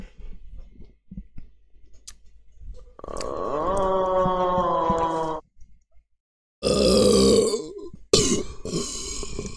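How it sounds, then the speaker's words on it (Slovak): A loud, drawn-out belch after gulping down half a liter of drink, a long croaking burp up close followed by further rough gulping belches and grunts, with quiet breathing sounds before. "Však si grgol som si ale až na konci."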